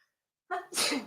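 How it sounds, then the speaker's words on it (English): A single close, loud human sneeze: a short breathy intake followed by a sharp, explosive burst, heard alone in a quiet room with no talk over it. "I need to sneeze."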